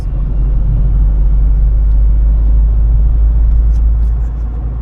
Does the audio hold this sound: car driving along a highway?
yes